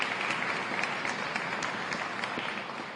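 Sustained applause from an audience at a 2014 International Women's Day celebration in Rhode Island, a steady dense wash of clapping filling the whole stretch at moderate level with no pauses.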